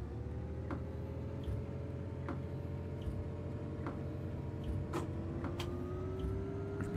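Train engine in the Train Sim World 3 simulator on the Niddertalbahn line near Bad Vilbel pulls away with a steady low drone and a rising tone, while faint ticking clicks recur over the continuous rumble.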